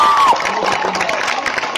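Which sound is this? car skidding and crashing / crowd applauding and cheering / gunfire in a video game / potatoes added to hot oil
crowd applauding and cheering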